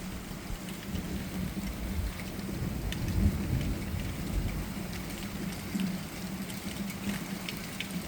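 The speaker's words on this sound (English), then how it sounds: "Another big flash just missed, but let's see if we get any thunder." Heavy rain pours steadily during a thunderstorm in Plymouth while thunder rolls low and loud through it, peaking around the middle before easing back into the constant downpour.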